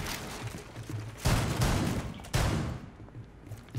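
Gunfire in the tactical shooter Rainbow Six Siege, with two sharp bursts of shots standing out over a busy background of game noise, no talking heard.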